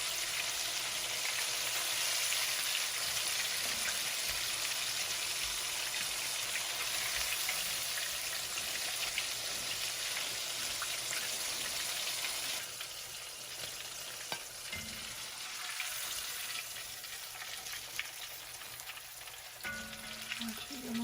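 Shrimp fry in hot oil with a loud, dense, continuous bubbling sizzle that eases slightly partway through, with occasional faint clicks.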